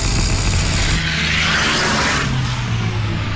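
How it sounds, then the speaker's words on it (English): The 2400HP Volvo Iron Knight truck comes on at speed in a loud, continuous roar of engine and rushing air that swells as it nears and carries on for a few seconds. "Here in the background, our truck's coming."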